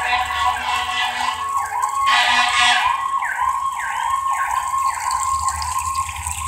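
An ambulance siren wails in a steady, rising and falling cycle, fairly loud and close, with a low rumble of traffic beneath it and no one speaking.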